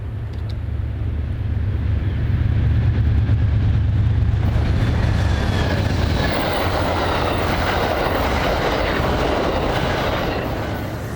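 Passenger train number 4 charges up the extremely steep grade from the Galisteo Basin toward Lamy and Glorieta Pass in New Mexico, a loud, close low diesel roar giving way to rising rail and wheel rumble with clickety-clack.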